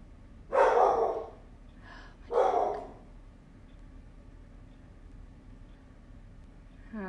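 A pet dog barks indoors during a livestream, two loud close barks about two seconds apart followed by quiet room noise and a faint final sound at the end.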